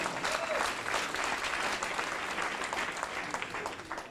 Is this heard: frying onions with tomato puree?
no